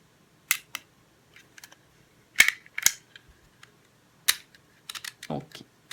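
A Hema label maker pressed hard to emboss letters, giving sharp isolated clicks and snaps spaced irregularly, fairly quiet and close, with faint background noise between presses.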